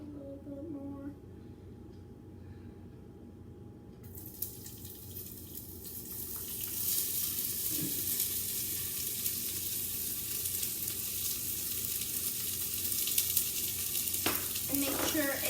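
Chopped garlic and onion hit a hot pan for baked ziti after a quiet opening, then sizzle steadily and grow slightly louder, with a faint clink of utensils partway through.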